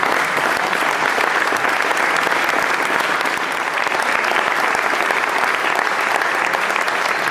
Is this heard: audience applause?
yes